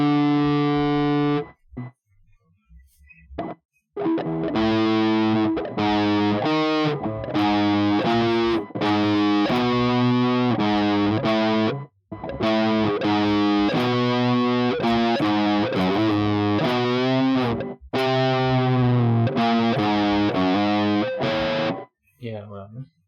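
An electric guitar run through extreme distortion sustains long, harmonically rich notes in wailing phrases that bend and slide, loud and continuous with short breaks between passages.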